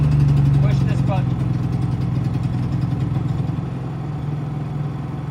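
Portable generator engine running steadily after starting, a loud, close, droning hum with a faint rattle under it, while a person talks over the noise.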